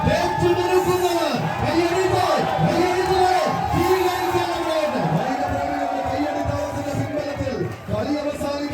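Large crowd roaring and cheering at a tug of war match in Kottayam, Kerala, with rhythmic rising and falling chanted shouts repeating every second or so, loud and sustained.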